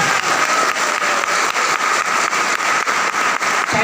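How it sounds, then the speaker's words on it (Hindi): A crowd at a business event gives loud, sustained applause for the mentors, with dense clapping and a steady pulsing rhythm throughout. "इन सारे गुरुओं के लिए जोरदार ताली होनी चाहिए।"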